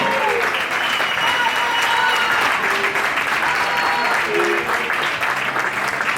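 Sustained, loud applause from a crowd at an all-star women's foosball event as players are introduced, dense steady clapping filling the whole stretch.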